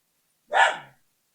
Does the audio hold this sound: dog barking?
yes